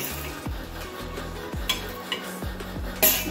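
A metal spoon scrapes and taps against a pot while aloo curry with gravy is served out, repeated clinks and knocks at a steady pace over a soft background hiss.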